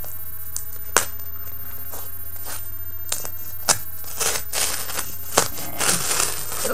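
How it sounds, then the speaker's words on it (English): A rotary cutter rolling through fabric laid over cardboard, a series of sharp close ticks and crisp slicing scrapes spaced irregularly, thickening into rougher crunchy cutting near the end, with no talking. "just take your rotary cutter and just go along."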